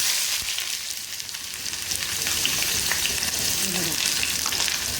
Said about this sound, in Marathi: तेल आलेलं आहे आता टाकूया कांदा